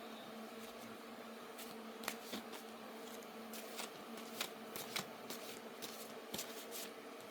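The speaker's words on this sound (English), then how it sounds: "I'm going to have to turn them this way to shuffle them" Crisp papery riffling of tarot cards being shuffled, in repeated quick bursts over a faint steady background hum, with no talking.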